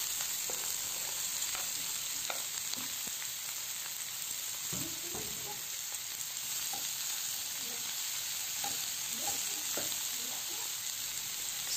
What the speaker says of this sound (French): je vais faire revenir l'oignon avec le poivron pendant 2 à 3 minutes dans cette poêle dans laquelle j'ai ajouté un peu d'huile végétale